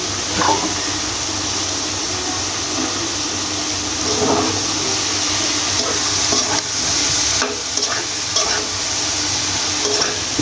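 Bitter gourd frying and being stirred in a pan, with a steady loud sizzle throughout and repeated scraping stirs, with no talking.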